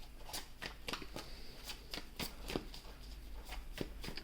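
A deck of tarot cards is shuffled close up in quick riffling bursts, a rapid run of soft, crisp flicks with a steady rhythm and no speech.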